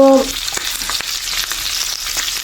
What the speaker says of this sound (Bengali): ভুনা প্রতিদিনই খাচ্ছি, তা আজকে ভাবলাম যে একটু ফ্রাই করি।